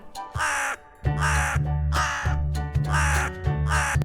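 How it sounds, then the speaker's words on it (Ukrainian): A crow caws loudly and close, about five harsh, drawn-out calls in a steady rhythm with short gaps between them. "Ворона каркає."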